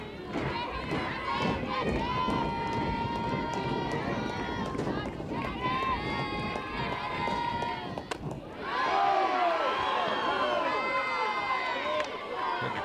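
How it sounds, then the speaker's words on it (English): A college softball crowd cheers and shouts throughout, a loud dense roar of many voices with whistles and yells, swelling sharply near the end, close and continuous. "Good crowd reaction"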